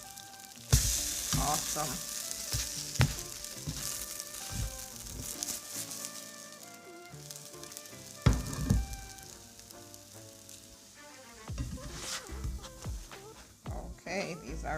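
French toast sizzling loudly in a pan right after flipping, a steady crackle with spatula clatters and thumps, while someone talks over it.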